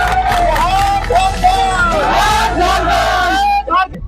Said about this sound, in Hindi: तो एक बार हमारे जितने ड्राइवर भाई हैं उनके लिए बस जोरदार तालियां हो जाए।